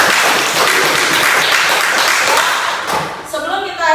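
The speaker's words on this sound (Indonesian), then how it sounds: "kita tepuk tangan dulu" A classroom of students claps steadily and loudly for several seconds before the clapping tapers off and voices begin.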